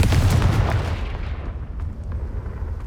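A Confringo spell explosion from Hogwarts Legacy bursts loud and close, a heavy boom that decays into a rumbling tail over about three seconds with no voices.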